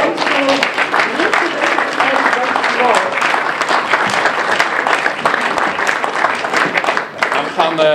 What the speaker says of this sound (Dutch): mag ik een hartelijk applaus voor Simon Marion